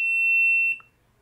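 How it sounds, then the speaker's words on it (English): A GoPro HERO 12 gives a single sharp electronic beep when pairing over Bluetooth with an Android phone, a clear tone lasting under a second followed by a short lower blip, then quiet. "You might hear a beep sound."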